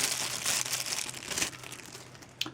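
A cheap, thin plastic bag around a second-hand knife package is crumpled and crinkled up close, a busy, crackly rustle that runs the whole time with no voices.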